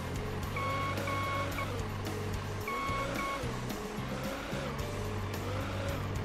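A car drives in the Beer Factory video game, its engine droning steadily at moderate level, with tonal whines and short squealing tones recurring over the constant hum.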